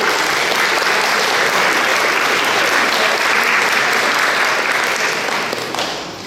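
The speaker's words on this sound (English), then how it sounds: "Shall we give them a round of applause?" An audience at a Bolton U3A choir concert gives a steady round of applause, many hands clapping evenly and loudly before the sound begins to thin out at the very end.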